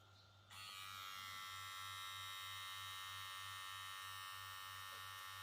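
A steady VGR electric hair clipper motor buzzes loudly and continuously after switching on, with a constant high whine.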